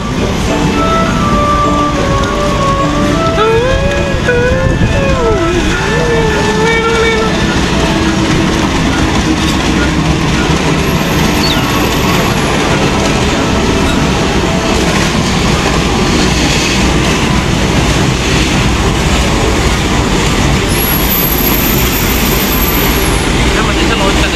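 A Brantas passenger train with modified New Generation executive and economy coaches enters a station on track 4, a loud, steady rumble of rolling stock filling the whole stretch, with brief high squealing tones near the start and toward the end.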